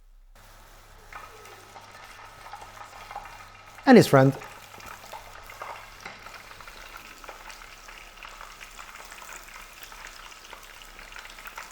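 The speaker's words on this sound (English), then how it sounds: "as I'm frying this, I must say I've put it at setting 8" Steady sizzling and crackling of battered flowers frying in hot oil on an induction hob at setting 8, with a brief loud clatter near the middle and a voice speaking quietly.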